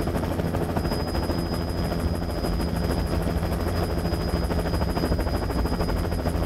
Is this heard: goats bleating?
no